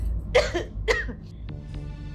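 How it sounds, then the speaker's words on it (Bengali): A woman who is feeling unwell coughs twice in quick succession from a short distance indoors, followed by faint throat sounds and a quiet room. "আহ, মা মনে হয় কাশতেছে, একটু শরীর খারাপ।"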